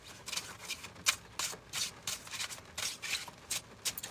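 Playing cards riffle and rub together in quick, soft bursts, a close shuffling sound repeated several times with no talking.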